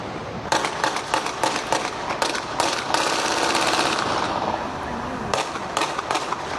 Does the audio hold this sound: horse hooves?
no